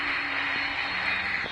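Boeing 757 cargo plane touching down on a test flight, a loud, steady roar of jet engines and cabin noise filling the short moment of landing.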